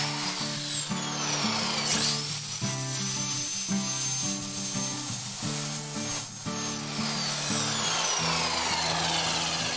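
A power saw cuts wood set to a 30-degree bevel while building hexagonal honeycomb shelves, a continuous loud whirring motor with shifting pitch and grinding bite, close up with no talk.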